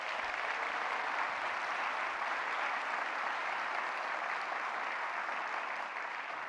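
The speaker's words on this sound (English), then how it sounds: "let's give these three a big round of applause" Audience at a university spring update gives a steady, dense round of applause, even and continuous throughout, moderately distant.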